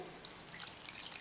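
Water poured into flour and egg yolks for cramique bread dough, a soft, faint trickling pour that runs steadily for a moment with no talk.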